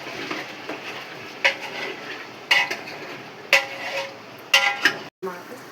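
Two kilograms of chicken being mixed in a metal cooking pot, with a spoon striking and scraping the pot in about four sharp, evenly spaced clangs over a wet stirring rustle.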